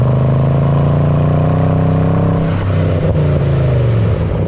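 A Mercedes ML63 AMG SUV's naturally aspirated V8 revving up loud and close, a deep throbbing growl that rises in pitch, then drops back with a burbling fall.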